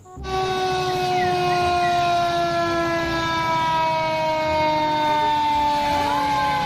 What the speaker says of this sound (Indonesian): wih, ada truk pemadam kebakaran.